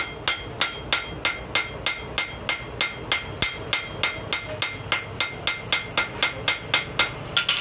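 Metal hammer striking a copper and wrought iron coffee scoop in a steady, rapid series of ringing blows, roughly four per second, close and clear with no talk.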